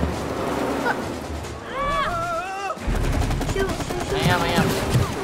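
Rapid bursts of gunfire ring out in the co-op game It Takes Two, coming as dense crackling volleys with short pauses between them, and a player's voice talks over the shooting.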